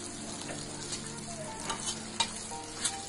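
Tomatoes with coriander powder, turmeric, black pepper and cumin frying in a pan, a close steady sizzle broken by a few sharp scraping strokes of stirring, with no talking.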